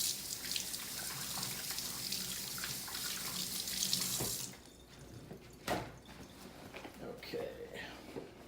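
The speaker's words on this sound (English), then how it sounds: "I'm going to wash my hands real quick." Kitchen tap running while hands are washed, a steady splashing hiss for about four seconds that cuts off abruptly, followed by quieter drips, handling sounds and faint speech.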